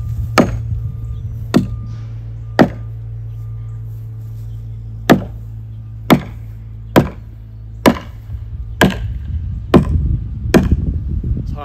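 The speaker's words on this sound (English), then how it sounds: "We knock the pole. Make sure it doesn't sound hollow." A hammer strikes a wooden utility pole about a dozen times in a test for hollowness, sharp solid knocks at an uneven steady pace, close by over a low engine hum.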